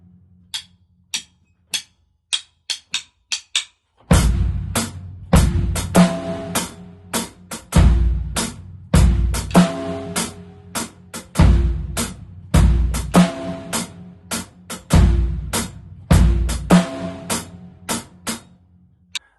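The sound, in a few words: drum kit playing swung eighth notes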